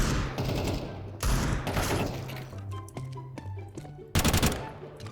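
FAMAS rifle fire in a competitive shooter game: loud, close automatic bursts in three separate volleys, with thuds and clattering game sounds in the gaps between them.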